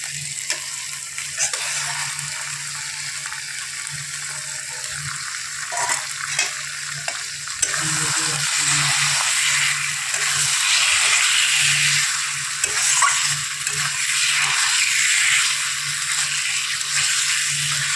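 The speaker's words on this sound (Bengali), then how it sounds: "চলো এবার ভালো করে কষিয়ে নেব হুম কেমন দিলাম চিকেনটা" Chicken frying and being stirred in spice masala, a constant close sizzle with periodic scraping stir strokes throughout.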